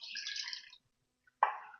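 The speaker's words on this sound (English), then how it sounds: "we just add our water" Water pours into a container for a rum cake syrup in two short bursts, a bright splashing trickle, then silence, then a sharper second pour, near and faint.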